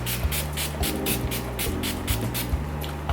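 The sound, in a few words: setting spray being sprayed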